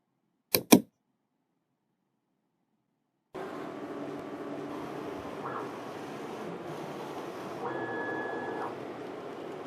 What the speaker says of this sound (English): So we go to choose step calibration and we click print.